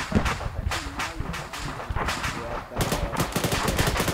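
Dense gunfire from a video game military operation crackles almost nonstop, with rapid automatic bursts and overlapping shots, loud and continuous throughout with a slight break midway.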